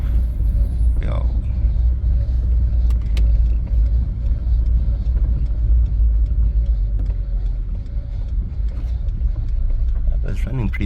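A Polo Vivo car driving on a flat tire, giving a steady loud low rumble of engine and road noise throughout, with a faint voice briefly audible.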